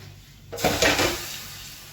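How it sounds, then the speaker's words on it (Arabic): Golden fried garlic is stirred into white okra in a clay tagine: a brief burst of scraping and clattering against the pot, close by, then a soft settling sizzle with no talk. "نقلب تقليبه بسيطه كده خالص عشان تنزل في الباميه"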